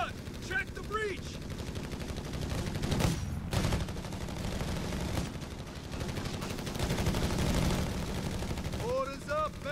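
Heavy machine gun fire in a Company of Heroes 3 battle on an Italian beach landing map, with sustained bursts of automatic gunfire and scattered shots layered over a dense battlefield din, a brief lull midway.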